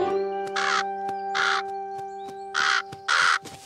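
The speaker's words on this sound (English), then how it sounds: "Do you really think they'll keep the crows away from my apricots?" Crows caw over an apricot garden, four loud harsh calls in uneven succession, close by, over a steady tonal background hum.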